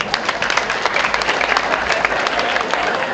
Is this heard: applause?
yes